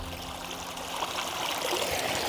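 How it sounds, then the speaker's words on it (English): Water from a backyard patio waterfall spills through a gap pinched between two rocks, bounces off stone and slides down into a pool, giving a steady, close trickling rush that continues without a break. "using the shape of the rock to have water bouncing off and then sliding down on an angle towards the pool"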